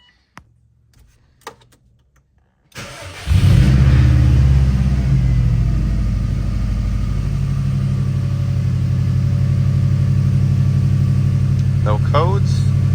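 A 2003 Subaru WRX engine fitted with new spark plugs and a new valve cover starts after a few quiet clicks, catching with a loud burst and settling into a steady, rumbling idle close by.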